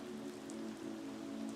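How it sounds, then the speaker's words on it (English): Steady, soft patter of rain falling on the surface of a lake, a continuous gentle hiss with faint droplet ticks throughout. "the gentle pattering of raindrops on the surface of the lake"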